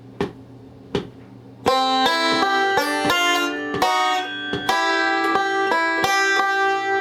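A five-string banjo is fingerpicked in a bluegrass roll with pinches on the second and first strings: two isolated plucks, then a quick, bright run of ringing notes and chordal pinches, close and clear.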